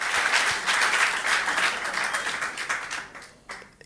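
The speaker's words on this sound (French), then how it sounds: "Alléluia, applaudissons à la gloire de Dieu." Church congregation applauds during a French-language healing service, a dense, sustained burst of clapping that starts full and gradually thins out toward the end, with no talk over it.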